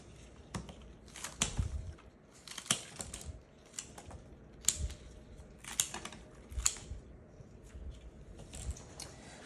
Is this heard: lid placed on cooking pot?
no